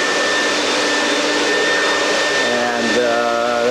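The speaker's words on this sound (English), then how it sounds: "And then vacuum." A shop vacuum cleaner runs steadily and loud after rough sanding with 80-grit paper on a wooden canoe build, a constant broadband whine with tonal hums that shift slightly near the end.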